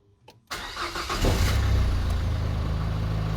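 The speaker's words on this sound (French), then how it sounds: "Alors je démarre le moteur." A Renault Twingo engine cranks briefly from inside the car, then catches and settles into a steady, close idle rumble.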